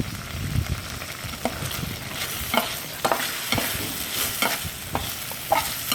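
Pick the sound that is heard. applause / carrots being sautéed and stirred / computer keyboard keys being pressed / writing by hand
carrots being sautéed and stirred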